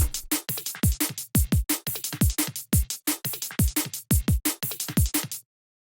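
A punchy chopped drum break loop: rapid kicks, snares and hats in a tight, choppy rhythm, loud and up front, ending abruptly in silence.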